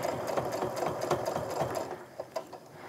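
Rapid, steady needle rattle of a home sewing machine quilting with a ruler foot, close and continuous, slowing into a few separate stitches near the end.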